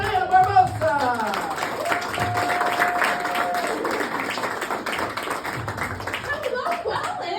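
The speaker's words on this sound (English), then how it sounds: "Please put your hands together for the lovely Diana Barbosa." Comedy club audience clapping and cheering to welcome a comedian onstage, a dense, sustained burst of applause with voices and whoops mixed in.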